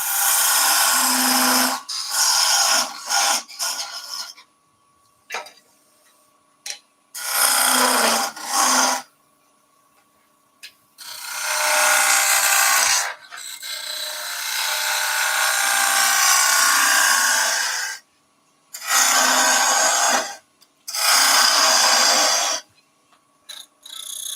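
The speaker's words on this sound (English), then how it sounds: "We're going to do a parting tool cut down to that rough 3/4 of an inch, 19 or 20 mil." A parting tool cuts into wood turning on a lathe for an egg cup, in loud, rasping bursts of several seconds each, broken by short quiet pauses, close by.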